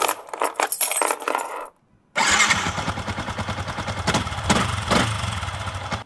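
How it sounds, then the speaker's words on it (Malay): Yamaha Y15 motorcycle engine cranked with a short starter whir, a moment of silence, then the single-cylinder catches and settles into a steady, close idle with a pulsing putter. "Hidupkan enjin anda dan cuba biarkan."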